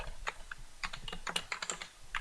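Quick bursts of keystrokes on a computer keyboard as a command is typed, a dozen or so close, crisp clicks in an uneven rhythm, quiet and alone without any voices.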